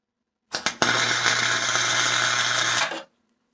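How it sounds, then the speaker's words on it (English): A steel hood spring tool for a 1951 Chevrolet being tack welded: a few quick crackling bursts, then one steady loud buzzing arc lasting about two seconds before cutting off abruptly. "I'm going to weld this other end. Or tack it, rather."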